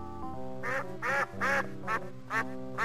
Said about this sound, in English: They sound like ducks.